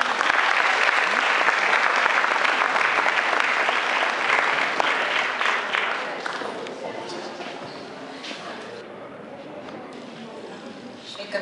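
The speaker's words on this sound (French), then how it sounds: "on peut l'applaudir." Theatre audience applauding at a Moroccan evening in Dreux, dense loud clapping that thins out and fades to scattered claps after about six seconds.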